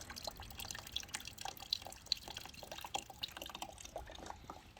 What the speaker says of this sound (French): là il y en a encore plein qui tombent. Ça c'est de l'ancien liquide de refroidissement.